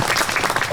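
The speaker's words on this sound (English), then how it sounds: "could we give Chris a round of applause" A brief burst of audience applause at a park naming ceremony for a wood at an ecology park, a dense patter of many hands clapping close by.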